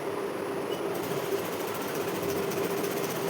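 A sewing machine stitches a blouse sleeve, running alone with a steady, fast mechanical whir and rattle that carries on at even volume throughout.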